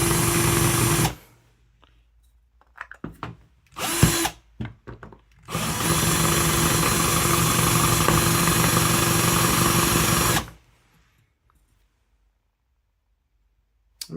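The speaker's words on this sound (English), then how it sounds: "first I'm gonna drill them out just so that they're not like, you know, usable screws" Power drill working stripped screws out of a board, a loud steady whine for about a second, then short stuttering bursts, then a long continuous high-pitched run of several seconds before stopping.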